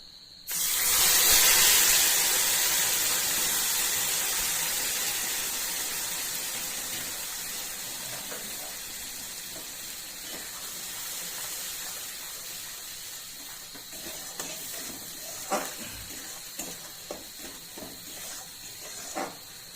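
A ground paste of onion, garlic, ginger and nuts hits hot oil with a loud, bright hiss and steamy sizzle that slowly settles into steady frying crackle, with a few sharp pops near the end.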